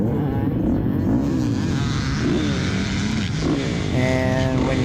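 A four-stroke dirt bike engine at a hare scramble race at Larenim Park runs loud and close, its pitch rising and falling with throttle changes and a higher revving whine near the end.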